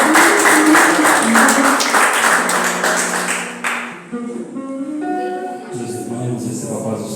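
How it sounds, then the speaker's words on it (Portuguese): A church congregation applauds in a burst of clapping that fades after a few seconds, giving way to voices and tonal, music-like sounds in the hall. "E você aplauda a Deus."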